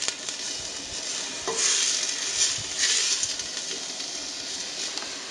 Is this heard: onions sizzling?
yes